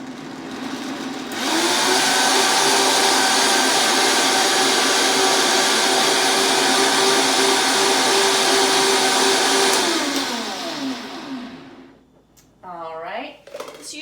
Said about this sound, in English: we're going to blend that up until it's smooth